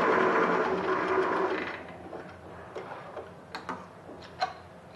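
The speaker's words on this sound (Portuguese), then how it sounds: "Eu costuro até o final, cruzo a linha de costura." A sewing machine stitches knit fabric for a camisão, a quick steady whirring run that fades after about two seconds into a few soft scattered ticks and clicks.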